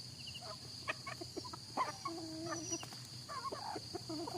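Chickens and a rooster cluck in a rural Lao village yard, a scatter of short, moderately loud calls over steady background hum, with a few longer drawn-out notes midway.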